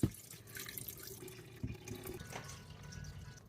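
Water pours from a big glass into a countertop water filter, producing a splashy, trickling flow with a few drips and gurgles, close and continuous throughout.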